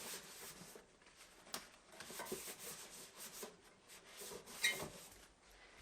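A sponge wipes down a Ninja Foodi Grill XL, giving soft, faint rubbing and scrubbing strokes in an uneven rhythm, with no voices.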